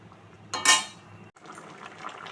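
Whole boiled eggs slip into a pan of egg curry liquid, a brief close splash and bubbling burst, followed by soft simmering and a faint clink of a utensil.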